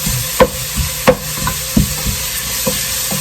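Vidalia onions sauté in a pan with a steady soft sizzle, broken by several sharp spoon or spatula taps and scrapes at irregular moments, heard up close without speech.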